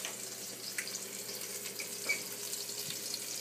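Boiling pasta water poured out of a pot into a kitchen sink to strain it, a steady splashing rush of water with a few faint clinks, heard alone at moderate level.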